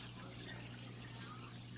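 An Ovation power jet filter churns water in a nano aquarium tank, a soft continuous rushing and bubbling wash with a low steady hum, faint and unbroken.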